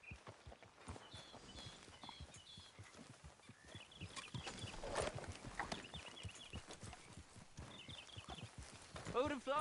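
Horse hooves clip-clop at an easy walking rhythm in Red Dead Redemption 2, a steady patter of close, light footfalls with faint birdsong and a voice talking over them.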